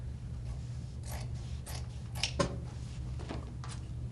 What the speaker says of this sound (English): So I am gonna cut that flat belt seam off